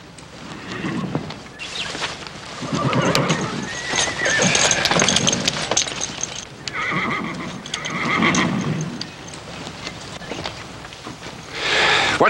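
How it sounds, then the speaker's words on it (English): A black horse whinnies loudly several times, close by, with hooves clopping and shuffling in between, in a western TV series. "Johnny, slap a saddle on this black horse."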